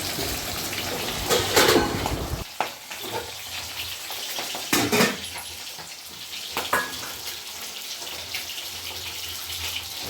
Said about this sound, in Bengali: তো এদিকে দেখো মাছটা ভেজে নিচ্ছি।